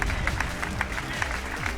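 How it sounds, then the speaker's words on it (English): A crowd at a Street Fighter tournament grand final applauds the champion with dense, steady clapping and cheering, a commentator's voice running over it. "Give it up for Nuckledu, the crowd"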